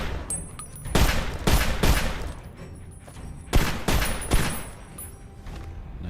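Shanks 31 pistol fired in Fallout New Vegas, a series of sharp, loud shots in small bursts, with distinct cracks clustered around the first and second seconds and again later, over a steady background hum.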